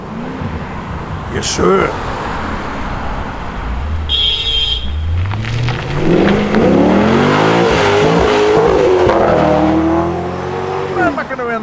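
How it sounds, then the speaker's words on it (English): Holden Commodore arriving at an outdoor car show in Earlwood, Sydney, its engine loud and close, revving hard and rising in pitch as it approaches, with crowd noise and a brief spoken reply. "hear something coming. A wild Commodore."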